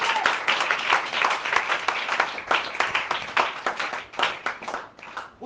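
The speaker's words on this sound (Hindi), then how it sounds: "तालियां ठंडियां हैं और जोर से बजाओ।" A church congregation claps for Jesus in loud, sustained applause, many hands beating together in a dense, uneven rhythm that swells and fades slightly over several seconds.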